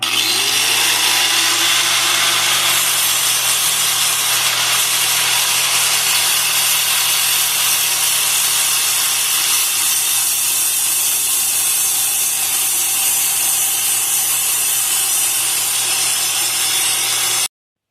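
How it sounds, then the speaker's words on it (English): A grinder points a steel shaft made from an old punch, a loud continuous abrasive whine and hiss heard up close and unbroken until it cuts off at the end. "So I'm going to use a grinder to point this shaft."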